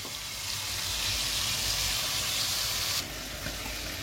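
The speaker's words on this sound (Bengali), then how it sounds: "চিকেনের কালারটাও চেঞ্জ হয়ে যাবে আর একটুখানি পেঁয়াজটাও ভাজা ভাজা হয়ে যাবে" Chicken and onions frying in a pan, producing a soft, steady sizzle and hiss that drops off sharply about three seconds in, with no talking.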